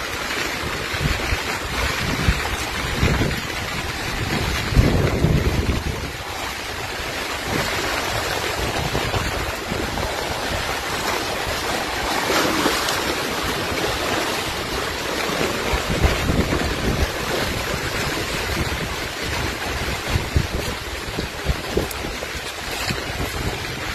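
Strong typhoon-driven waves churn across Laguna de Bay during Typhoon Uwan in a continuous roar of surf with heavy wind buffeting the microphone, steady and loud throughout with no voices.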